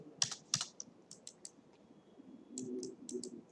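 Keys on a computer keyboard are tapped in short irregular bursts of crisp clicks, close up and fairly quiet, with brief pauses between the presses.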